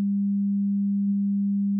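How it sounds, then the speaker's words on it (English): A pure, steady 200 Hz sine tone from an oscillator hums evenly for about two seconds, unchanging and alone with no other sounds. "We have an oscillator, a sine wave oscillator, going at 200 hertz."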